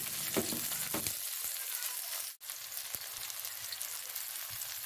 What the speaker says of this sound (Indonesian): kita siapkan minyak goreng kita tumis bawang merah bawang putih kemudian ada cabai